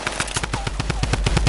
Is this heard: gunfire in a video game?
yes